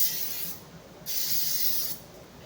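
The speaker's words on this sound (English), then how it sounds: "I'm going to spray it lightly quick" Two short bursts of cooking oil spray hiss onto mushroom croutons, a close, steady spritz lasting about half a second, then a longer one near a second, separated by quiet.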